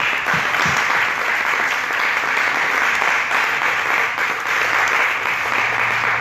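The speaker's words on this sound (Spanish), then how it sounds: "vuelvo a pedir un aplauso para toda esta gente" Sustained applause from a large audience at a book fair literature panel in Las Palmas de Gran Canaria, a dense, steady wash of clapping that holds at an even level throughout.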